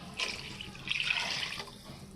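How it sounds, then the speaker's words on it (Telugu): Water poured into a pot of simmering fish curry, a steady splashing trickle lasting about a second and a half, close and fairly quiet, with no talking. "ఇంకొంచెం వాటర్ పోసేసుకుందాం."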